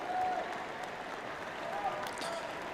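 A stadium crowd at the Emirates applauds a substitute during a women's Arsenal v Aston Villa match, a broad, distant wash of clapping that holds steady, with faint whistles and crowd noise mixed in.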